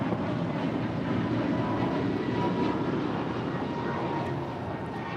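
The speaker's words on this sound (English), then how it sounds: "That was American Airlines 2613 departing to Philly on an A321neo." American Airlines A321neo jet departing LAX, a steady broad engine roar holding at a constant level throughout, heard from a distance with no talk.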